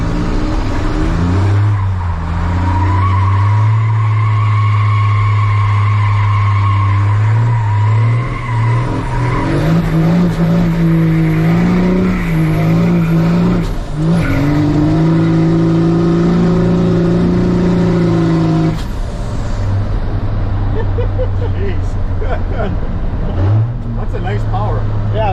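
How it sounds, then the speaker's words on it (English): A 600-horsepower 12-valve Cummins drift truck revving hard and sliding, engine tone rising and falling in long sweeps with tire squeal, close and loud, with people talking over it. "So I figured I'd take Brian for a little rip in the truck since he's here anyways"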